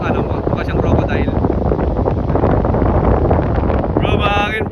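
Strong wind roars steadily across a microphone aboard a boat near Crocodile Island, a loud, continuous buffeting rush with no letup, plus a faint tonal sound near the end.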